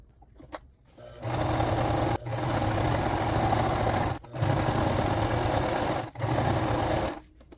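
A sewing machine stitches a cosplay jacket in three loud, steady runs of rapid whirring and clatter, separated by short pauses.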